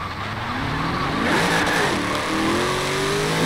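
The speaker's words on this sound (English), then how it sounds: "Only problem with this thing is it spins in almost every gear." An Italdesign Zerouno in Forza Horizon 4 spins its wheels, engine revving loudly and rising in pitch with tire squeal over a steady roar, no voices.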